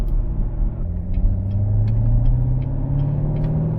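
A Chevrolet Corvette C7 Grand Sport engine rumbling from inside the car, a loud low drone with rising pitch sweeps as revs climb, steady and continuous without speech.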